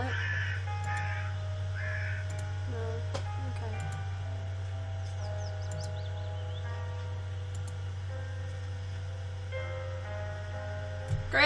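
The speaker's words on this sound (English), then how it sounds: "A dying crow, not much life left in it." A dying crow in the horror game The Last Door caws in a few rasping calls over a constant low hum and faint ticking ambience, the calls weak and spaced out early on.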